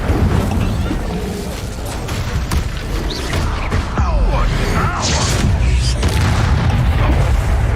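A fire spell cast in Hogwarts Legacy, a loud, dense burst of magical combat effects with booming impacts and whooshes running continuously for several seconds, heavy low rumble throughout.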